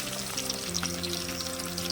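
Chopped onion dropped into hot tempering oil in a pan for a broad bean curry, a steady close sizzle and crackle, continuous and fairly loud with no talking.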